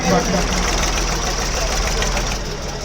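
A Ford 3600 tractor, won as a prize at a pigeon-racing fair, runs with a dense, steady low rumble and a knocking throb that stays constant, while voices talk over it.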